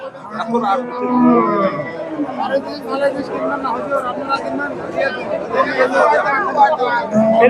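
A milking cow at the Chandaikona cattle market lows with drawn-out moos, close by, amid the chatter of a crowd and people talking nearby.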